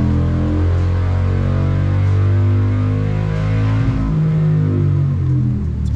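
A Harley-Davidson 135ci crate engine runs on a dyno while being tuned at very low RPM, giving a loud, steady, deep droning rumble that holds level for the whole stretch and shifts pitch slightly toward the end, with no voices.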